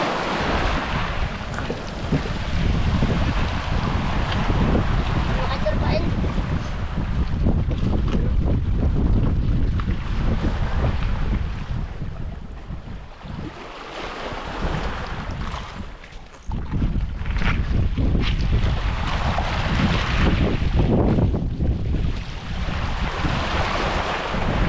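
A boat rides a rough, wavy sea in strong wind, with continuous loud wind buffeting and the wash of water against the hull rising and easing in surges, and no talking.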